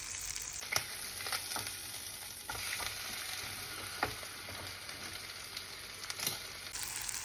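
Teriyaki chicken sizzles steadily in a pan, a continuous close frying hiss with scattered crackles and small pops, heard alone without talk.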